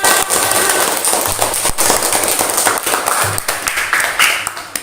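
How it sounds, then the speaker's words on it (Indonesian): Schoolchildren in a classroom break into loud, dense clapping that fills the room as a continuous crackling burst, close and steady. "tepuk tangan untuk kita semua."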